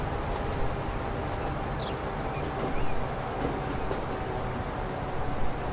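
Trains pull into a crowded station in the rail-building video game Transport Fever, producing a steady, dense rumble of rolling wagons with light clickety-clack, continuous and fairly loud with no voices.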